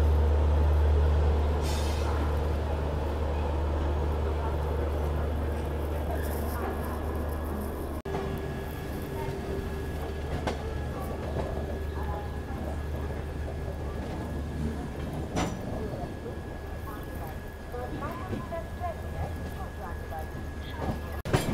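A Tamil Nadu Express passenger train runs on the line heading south, giving a steady loud rumble with deep low-end roar and rattling throughout, plus a faint sustained tone and occasional clanks.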